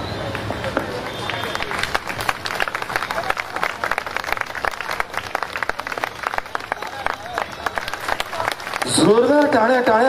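Audience applause at a Dhammapahat 2024 gathering, dense and continuous clapping from a crowd that keeps going with a chatter of voices, then gives way to a voice over a loudspeaker near the end.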